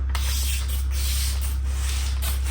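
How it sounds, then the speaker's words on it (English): Steady hiss of water sprayed from a spray bottle into a window channel during window tinting, with a few brief pauses, over a constant low electrical hum. "I always like to spray a little water in the channel"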